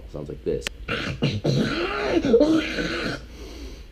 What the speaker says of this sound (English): I had this Cymatics Halloween vocal sample pack, and there was this zombie sample